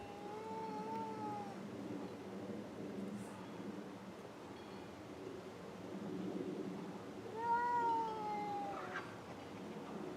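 A cat up a tree gives two drawn-out, plaintive meows several seconds apart, somewhat distant against a steady outdoor background hum.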